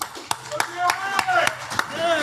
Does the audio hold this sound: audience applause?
yes